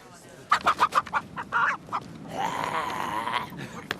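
A chicken gives a quick series of loud, close clucks, then a longer drawn-out squawk, heard alone and clearly.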